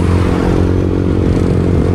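A motorcycle rides along a highway on a long trip from Manila toward Bicol, its engine droning steadily and loudly close to the microphone, with wind rush and road rumble mixed in.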